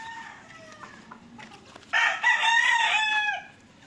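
A broadcock rooster on a Philippine breeding farm crows once, loud and close, after faint background clucks and bird calls.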